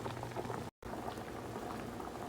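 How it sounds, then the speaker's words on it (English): Chopped potatoes boil in a pot of water, giving a dense, constant bubbling and rolling hiss that continues steadily apart from one very brief dropout. "exactly how long do you boil the potatoes?"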